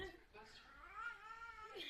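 A cat gives one long, drawn-out meow toward its owner, rising and falling in pitch like a complaining caterwaul, heard close but fairly quiet.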